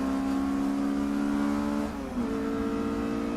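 Race car driving down the long back straight at Snetterton circuit, a steady loud engine drone holding pitch, then a brief dip and gear change near the end, with no talking.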